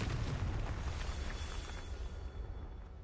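A Confringo spell explosion in Hogwarts Legacy bursts loud and booming at the start, then rumbles and fades over a few seconds.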